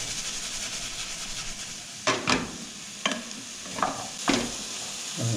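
Meatballs fry in a pan under a steady sizzling hiss, while a utensil scrapes and stirs through them in four or five distinct strokes. No one speaks.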